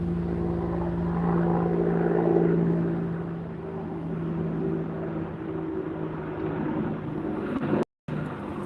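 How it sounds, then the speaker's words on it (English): A helicopter drones steadily overhead, a low throbbing hum with a constant engine tone that swells slightly and then eases, with a brief dropout near the end. "A lot of helicopter flights today."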